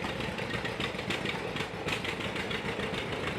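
A 1944 unstyled John Deere BR tractor idles at a steam show, its engine giving a steady, faint low chugging throb that continues unchanged with no voices.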